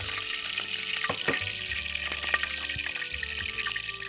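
Oil heats in a frying pan with a light, crackling sizzle, broken by small clicks and clinks of kitchenware nearby.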